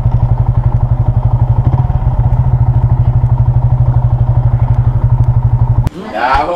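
Motorcycle engine on a farm road in Kalasungay, Malaybalay City, Bukidnon: a close, loud, rapidly chugging idle thrums steadily, then drops away as talk and rustling take over near the end.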